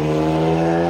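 A Chevrolet Trailblazer SS drives by with a loud, steady engine drone and a strong low hum that holds for about a second before cutting off abruptly.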